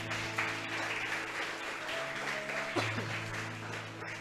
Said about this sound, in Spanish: Alguien le aplaude al Señor por esto, hermanos